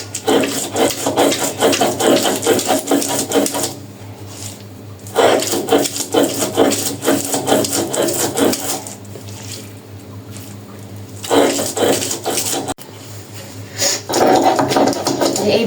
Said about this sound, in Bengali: এইভাবে করে একবারে মিহি করে বেটে নিতে হবে